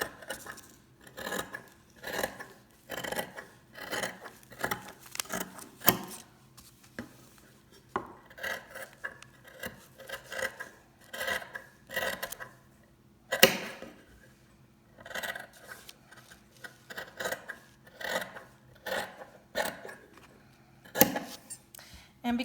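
Scissors slice through four layers of cotton mask fabric in quick, rhythmic bursts of crisp snipping, close and clear against a quiet room with brief pauses between runs of cuts.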